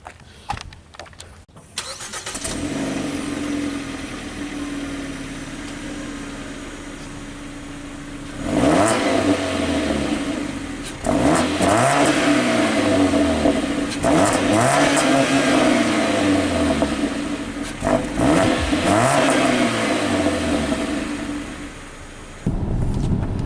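A 2017 Jeep Renegade Trailhawk with a 2.4L four-cylinder and 4WD pulls away on a drive, its engine note climbing and falling through repeated up-shifts as it accelerates, heard close from inside the cabin with steady road noise and no talking.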